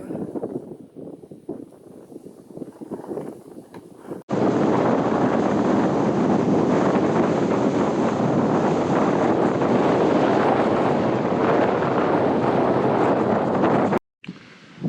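Strong wind gusts blow dust at the entrance of Lovelock Cave in Nevada, giving a loud, continuous roar of wind buffeting the microphone after a quieter opening of scattered rustles, then cutting off abruptly near the end.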